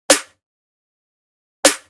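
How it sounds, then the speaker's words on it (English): A dry hip-hop snare with no effects cracks twice, each a sharp, bright slap that dies away quickly, separated by silence, close and clear with no voices. "This is what it sounded like without any effects"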